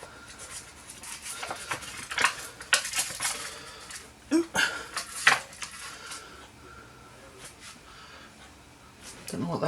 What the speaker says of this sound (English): so I'm just going to cut a bit off